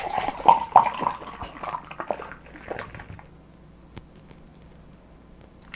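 A milk stout nitro beer hard-poured from a can, a splashing, gurgling pour for about three seconds that fades into the quiet fizz of settling foam.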